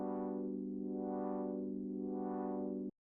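A sustained synth pad holds one chord while its filter slowly opens and closes three times in a smooth, rhythmic sweep driven by a sine-wave LFO. The tone stays steady and fairly quiet, then cuts off abruptly near the end.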